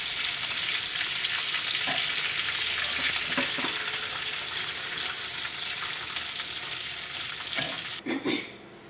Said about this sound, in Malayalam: ഇതിലേക്ക് നമുക്ക് എണ്ണ ഒഴിച്ചിട്ട് ചിക്കൻ വറുത്തെടുക്കാം